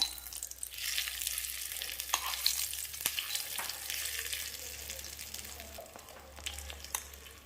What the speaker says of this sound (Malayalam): കടുക് വറുത്തത് ചമ്മന്തിയിലേക്ക് ചേർക്കാം